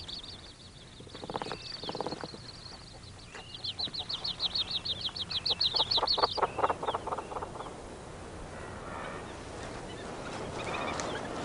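Rapid, high-pitched bird calls come in quick rhythmic bursts, rising into a busy chorus before fading into softer background chirping.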